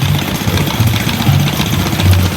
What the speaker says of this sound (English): It's a 1/3 scale model of a 5-horse Galloway